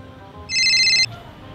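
A mobile phone ringtone sounds during an outgoing call, a single bright electronic trill lasting about half a second, loud and alone over low room noise.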